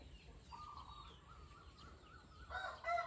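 A Burmese game chicken, eight to nine months old and about 2.5 kg, clucks and crows faintly from nearby, with a louder burst of calling near the end.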